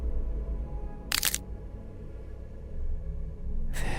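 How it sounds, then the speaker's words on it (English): A cracking sound effect with two sharp, brittle snaps about three seconds apart, set over a low, rumbling background. "making a cracking sound as they go."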